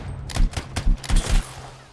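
Gunfire in the video game Anthem: several loud, rapid bursts of shots in quick succession, close and punchy, with no talking over them.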